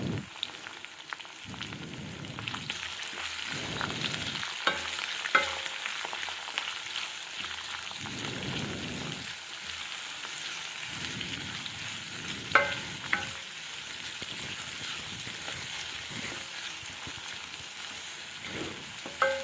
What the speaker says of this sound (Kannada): ಈರುಳ್ಳಿ ಹಸಿ ಸ್ಮೆಲ್ ಹೋಗೋವರೆಗೂ ಅದನ್ನು ನೀಟಾಗಿ ಫ್ರೈ ಮಾಡಬೇಕು